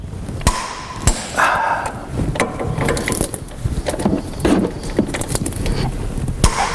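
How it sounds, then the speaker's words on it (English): A torque wrench ratchets rapidly as brake carrier bolts are tightened on a 2003 Land Rover Discovery, close metallic clicking in quick bursts with a few knocks and clunks. "I'm just torquing up the main carrier bolts to 175 Newton meters"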